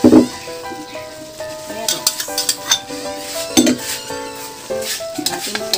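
Potatoes tipped into sizzling pork menudo with liver and hotdog in a pan, loud close sizzle with irregular clinks and scrapes of a spoon stirring against metal, no talking.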